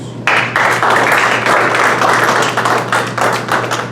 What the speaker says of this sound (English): Let's give another round of applause to our newest Dirt Boyz.